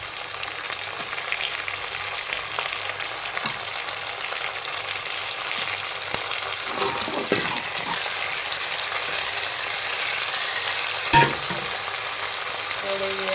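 Onions and tomatoes frying together in a pan for a Punjabi rice dish, a continuous close sizzle with occasional stirring scrapes and one sharp clink near the end, no talking.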